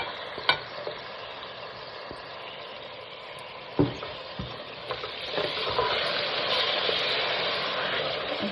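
Steady frying sizzle of tomatoes and spices in a pan for a Punjabi lamb and potato curry, with occasional sharp clinks and scrapes of a utensil stirring, growing a bit louder and denser toward the end.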